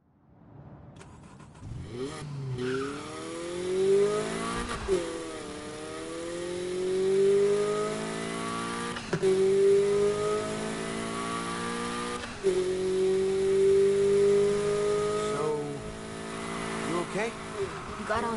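Car engine in the Need for Speed Heat racing game revving through repeated rising gear pulls, loud and steady over about eighteen seconds, with game music and dialogue underneath.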